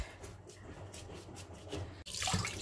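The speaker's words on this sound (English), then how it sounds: "just run some cold water and just clean it all up." Cold tap water runs to rinse a cleaned fish, a steady broadband splashing gush that gets louder and fuller near the end, with no voices.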